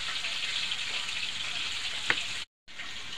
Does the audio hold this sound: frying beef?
yes